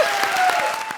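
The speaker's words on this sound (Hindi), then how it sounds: "जोरदार तालियां हो जाएं।" A studio audience at a televised comedy show breaks into loud, dense applause, a brief one-second wash of many clapping hands.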